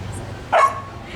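A single short dog bark during obedience training, rising briefly above a steady background of room noise.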